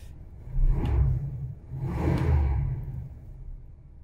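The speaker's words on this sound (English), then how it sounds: "Engine idle just settled in." A 1977 Cadillac Coupe DeVille engine settles toward idle, with two swelling low rumbling surges before easing into a steady, close low hum.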